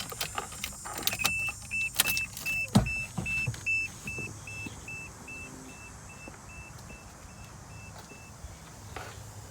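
The ignition is keyed on in a car fitted with an aftermarket fuel pressure regulator, and the electric fuel pump primes with a low steady whine. A repeating chime and a few clicks and knocks sound over it, with no talking.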